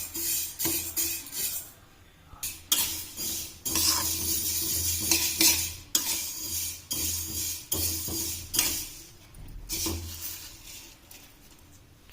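Ingredients for methi dry fruit ladoo roasted in a pan, with a spoon scraping and clinking against the metal in repeated bursts over a low sizzle, separated by short quiet gaps.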